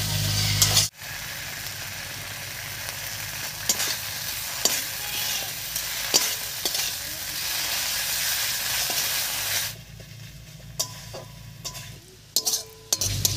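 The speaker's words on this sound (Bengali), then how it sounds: "এবার ধনেপাতা কুচি ছড়িয়ে একটু নাড়িয়ে নিয়ে নামিয়ে নিচ্ছি" Spicy tomato bharta with chopped coriander is stirred in a hot pan, with a continuous sizzle and intermittent spatula scrapes and taps, close and steady, quieter toward the end, no voices.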